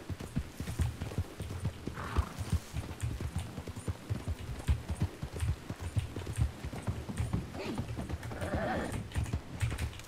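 Horse hooves clopping in Red Dead Redemption II, a steady rhythmic trot of close, fairly faint hoofbeats continuing throughout with occasional soft snorts.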